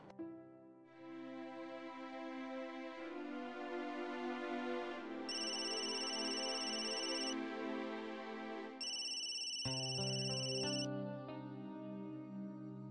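A phone rings with a repeating melodic ringtone for several seconds, its tones clear and close, playing alone with no talking over it.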